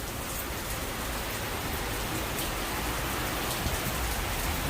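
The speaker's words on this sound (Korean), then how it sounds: "일하는데 갑자기 비가 와가지고 그냥 난리가 났습니다" Sudden heavy rain pours down steadily during outdoor cleaning work, a dense, constant hiss of drops pattering on surfaces with no pauses and no voices.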